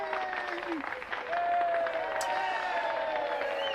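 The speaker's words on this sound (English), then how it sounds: "Applause." Applause from a small group plays beneath a faint tonal backdrop, a quiet, scattered patter of clapping that swells slightly after the first second and holds steady, kept at a low level.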